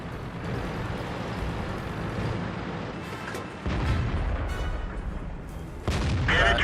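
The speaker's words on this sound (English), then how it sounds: "I put 2 shots into him for 767 damage already." Tank cannon shots in a video game land as heavy booms in a rumbling, noisy battle, with a sharp jump in loudness midway and another near the end.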